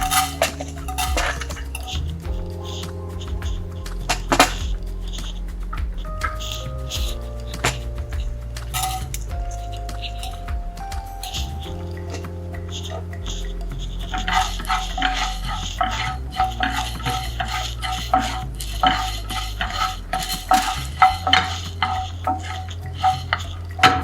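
A spoon stirs and scrapes matta rice as it dry-roasts in a hot saucepan for a South Indian Kerala rasam, steady scratching and light clinks of metal, close, with a faint sizzle and no talking.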